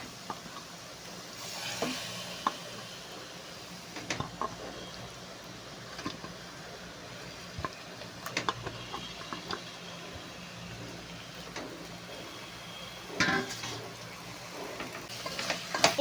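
Chicken pieces frying in masala in a pot for chicken biryani, with a soft, steady sizzle broken by occasional scrapes and clunks of stirring, moderately close and alone.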